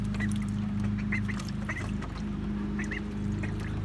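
Ducklings quacking in a muddy tub outdoors, with soft scattered peeps and calls over a steady low hum of neighbours' lawn mowing in the background.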